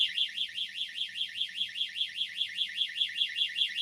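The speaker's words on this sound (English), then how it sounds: "That's my gate alarm." A gate alarm going off near horses, a loud electronic siren warbling rapidly up and down in a steady repeating pulse, alone with no talk.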